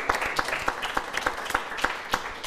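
Audience applause at an evening television show, a steady wash of many hands with sharper individual claps standing out at a regular pace, fairly close and loud, with no talking over it.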